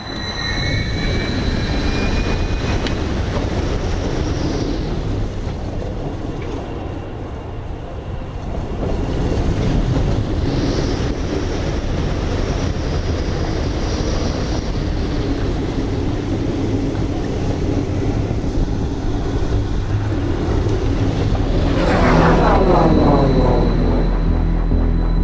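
Continuous rumble and clatter of the Full Throttle roller coaster at Six Flags Magic Mountain, with cars rolling along the track, shifting in intensity and closing with a rising rattling whoosh, heard steadily and without talk.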